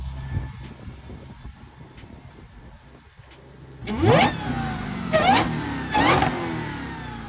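A Dodge Challenger Hellcat making 1,025 horsepower on E85 revs hard in three loud, rising bursts after a quieter idle, each throttle blip climbing sharply then falling away, close and alone.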